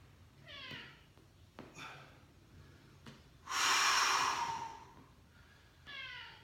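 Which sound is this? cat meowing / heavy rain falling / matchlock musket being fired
cat meowing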